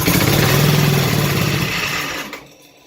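A mini race mower engine is cold-started on half choke after starting fluid was sprayed in. It runs loud and close with a rough buzzing idle for a couple of seconds, then cuts out into quiet.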